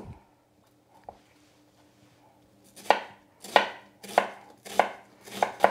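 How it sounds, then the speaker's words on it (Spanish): A knife slices peeled onions into thin julienne strips, first one isolated cut, then five firm rhythmic chops on a board, close and distinct in a quiet room. "Las cebollas que ya tengo peladas las voy a cortar en juliana o en tiras finitas."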